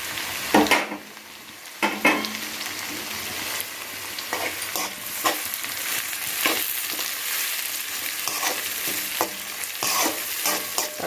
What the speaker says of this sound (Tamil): தக்காளி வந்து 1 நிமிஷம் நல்லா வதங்கட்டும்.